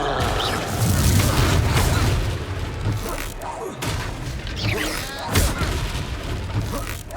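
The Confringo fire spell explodes in Hogwarts Legacy gameplay, a series of booming blasts and crackling impacts over a dense, continuous game soundscape.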